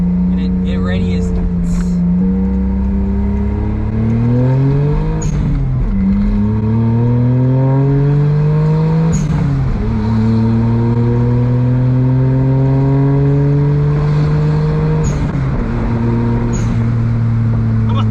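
A Suzuki Cappuccino's small engine drones close up while driving, rising in pitch through each gear and dipping sharply at four shifts, a steady loud cabin hum that runs continuously for the whole stretch.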